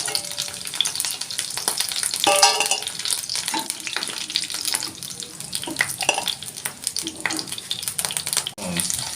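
Chicken pieces deep frying in hot oil for street-style fried rice give a dense, busy crackle and bubbling, close and fairly loud, with scraping stirs throughout and no one talking.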